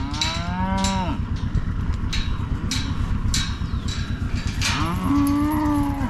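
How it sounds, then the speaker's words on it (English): Cattle on a farm pasture moo loudly and close by, several long, drawn-out calls rising over a steady low rumble of movement. "Come on, cow."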